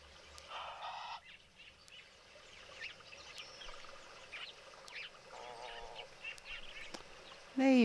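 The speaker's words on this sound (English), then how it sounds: "There you are, you noisy bird." A noisy wild bird calls repeatedly in an outdoor nature setting, harsh honking or squawking calls scattered over a quiet background, moderately near, with a louder call bursting in at the end.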